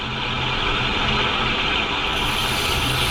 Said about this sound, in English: what I'm doing with this leather belt is I'm closing in all those little burrs.